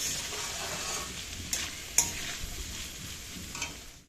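Vegetable fritters frying in a pan and being stirred, a soft continuous sizzle with a few brief scraping clicks from the utensil, close by and without talk.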